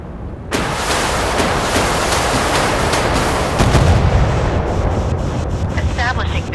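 A missile roars off a warship in the naval game Force of Warships, a sudden loud blast that rolls into a sustained, dense rumble with a heavier thud partway through, no talking.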